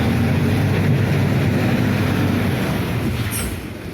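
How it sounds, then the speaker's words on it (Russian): A powerful tractor scrapes and pushes piles of snow and ice in a Yakutsk street, a loud continuous rumbling engine and grinding that eases slightly toward the end. "Смотрите. Мощный трактор."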